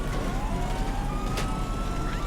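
Police car siren in the video game Grand Theft Auto V, a wailing siren rising and falling over loud engine and road noise from game cars, heard continuously for a couple of seconds.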